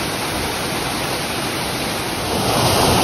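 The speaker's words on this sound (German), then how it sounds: "Das ist der Wasserfall" A waterfall in a rocky canyon near Petra gives a steady, dense roar of falling water close by, swelling slightly louder toward the end, with no voices.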